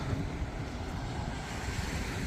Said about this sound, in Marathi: इथे पण आहे समुद्र आणि इथे पण पहा